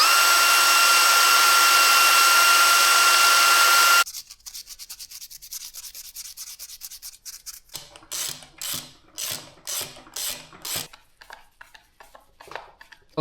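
A chainsaw spark plug is scrubbed clean by hand, beginning with a steady hiss of background noise and then a rhythmic run of short, close scraping strokes with pauses between them.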